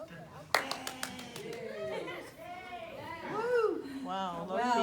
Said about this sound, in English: Come on, y'all clap.